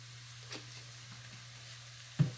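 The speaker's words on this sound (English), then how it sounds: "we also frying our rice" Rice fries in a pan with chicken bouillon and lemon pepper, giving a faint, steady sizzle with a few soft ticks and one louder clink near the end, no voices.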